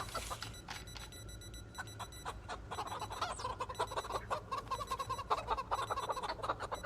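Chickens cluck and squawk in a crowded hutch in a survival video game, a busy overlapping chorus of fowl calls with a rooster-like cry, heard alone over a low steady hum.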